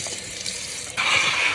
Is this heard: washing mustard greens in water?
yes